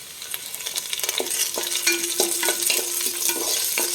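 Green chilies and curry leaves frying in a pan with onions for a roasted-coconut chicken curry, crackling and sizzling steadily with scattered pops and stirring scrapes close by.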